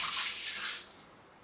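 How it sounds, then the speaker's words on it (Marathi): Water runs and splashes into flour dough being prepared for kneading for Diwali shankarpali, a steady close pour that tapers off after about a second. "आता मी पाणी टाकून हे पीठ मळते"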